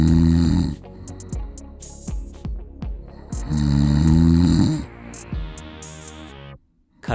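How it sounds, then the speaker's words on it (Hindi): Loud rhythmic snoring with deep rumbling breaths repeating roughly every second, a long heavier snore in the middle, and a brief pause near the end. "इससे खर्राटा लेना खत्म होगा"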